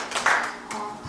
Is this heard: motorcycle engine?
no